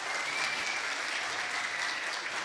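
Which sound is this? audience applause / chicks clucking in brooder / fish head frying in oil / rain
audience applause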